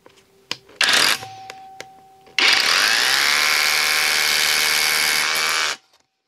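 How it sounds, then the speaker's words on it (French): An Einhell Herocco hammer drill with a 10 mm bit in percussion mode bores into a concrete breeze block. A couple of short bursts come first, then a loud, sustained hammering roar of about three seconds that cuts off abruptly. "Voyons maintenant ce que donne ce perforateur Aeroco en situation avec le perçage d'un parpaing tout simplement, avec une mèche de 10 mm de diamètre."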